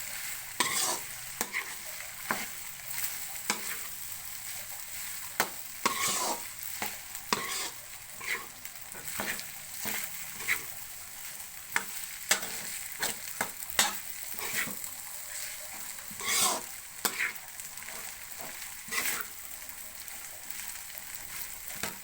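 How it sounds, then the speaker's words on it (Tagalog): Garlic fried rice (sinangag) stirred in a pan: a soft, steady sizzle under frequent scraping and clinking strokes of a spatula against the pan, close and fairly quiet. "Haluin na natin, guys."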